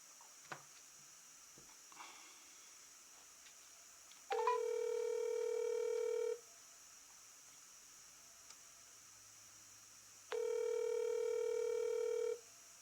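Touch-tone telephone dialing while placing a call: a quick run of faint key tones, then two separate stretches of steady ringback tone of about two seconds each, with quiet room noise between.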